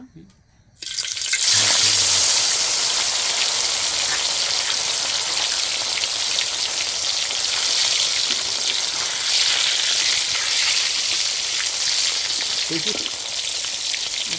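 An egg fries in hot oil, with a loud, continuous sizzle like heavy rain that starts abruptly after a quiet first second and holds steady to the end.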